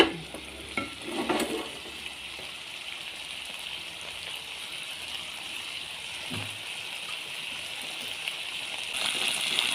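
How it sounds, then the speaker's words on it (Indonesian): Milkfish and wilting basil leaves fry in a pan while someone stirs, keeping up a steady sizzle with a few soft scraping and shuffling sounds. The sizzle grows slightly louder near the end. "Ini daun kemanginya sudah mulai layu, kita goyang-goyang sedikit biar tidak lengket."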